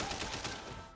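A quick cluster of gunshots from a shotgun in the Sleeping Dogs action game, a few sharp reports in under a second, loud and close with no talking.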